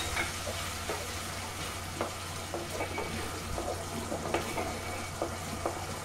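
A steady bubbling sizzle from a pan of simmering chutney, with soft plops as taro pieces drop in and occasional stirring scrapes, close by.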